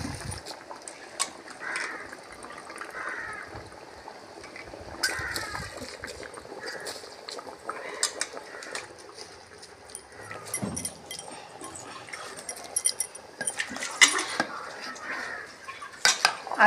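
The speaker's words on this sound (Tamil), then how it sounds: "அரிசி போட்டு நம்ம உடனே மிக்ஸ் பண்ணி விட்டுணும்" Half a kilo of basmati rice goes into a pot of country chicken biryani on an outdoor stove and is stirred, with faint metal scrapes, clinks and watery splashes under occasional talk.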